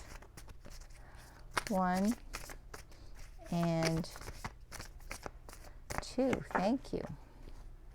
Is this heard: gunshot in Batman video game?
no